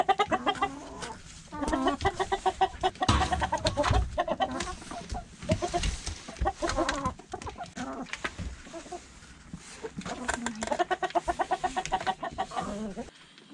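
Hens cluck and chatter steadily close by, with a rooster joining in among the busy, continuous fowl noise.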